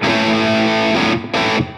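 Loud, sustained electric guitar chord through a Diezel VH Micro head at lower gain with mild crunchy distortion, then a brief break and a second ringing chord.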